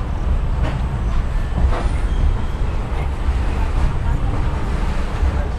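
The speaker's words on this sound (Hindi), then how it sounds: "हिलसा रेलवे स्टेशन का एक छोटा सा प्लेटफॉर्म है" A train at the small Hilsa railway station platform gives a loud, steady rumble with clickety-clack wheel beats and brief squeals, and the rolling noise continues throughout.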